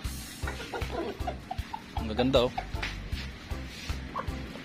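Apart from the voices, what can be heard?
chickens clucking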